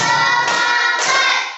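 Rhythmic hand clapping in a primary school classroom at SDN 06 Pemudang, a steady burst of claps from many pupils sounding close and lively, with no talking over it.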